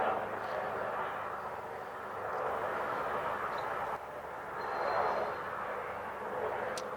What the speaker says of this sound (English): Just going to stop for the helicopter for a second.